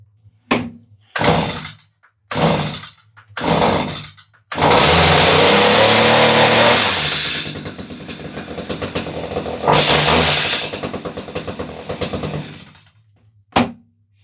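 A STIHL brush cutter's small two-stroke engine gives several short sputtering bursts, then catches and runs as a loud, close, sustained roar that slowly eases off and revs once more before cutting out.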